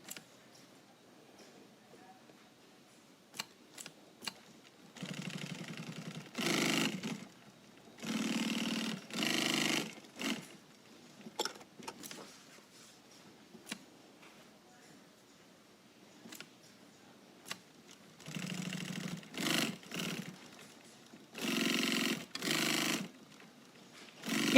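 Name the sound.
sewing machine stitching fabric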